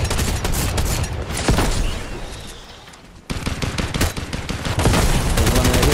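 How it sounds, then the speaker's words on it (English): Rapid bursts of gunfire from the video game Fortnite crackle loudly and close by, with a short lull midway before dense volleys of shots resume and continue to the end. "they're shooting me behind me"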